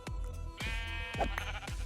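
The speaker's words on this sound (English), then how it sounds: "Sheep, what are you doing in that machine?" Several loud, close sheep bleats from a Minecraft sheep stuck inside a machine, each a short wavering cry, repeated about four times in a row with no talking.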